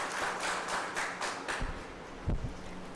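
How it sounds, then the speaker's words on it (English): Audience applause at an international academic conference in Kharghar, steady rapid clapping from a hall crowd for a welcomed guest, fading partway through, with a few louder thumps near the end. "Please give a huge round of applause and welcome sir."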